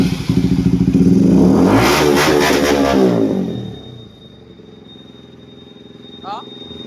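An NS200 motorcycle engine fitted with a new carburetor revs hard and loud up close for a few seconds, then drops back to a low, steady idle.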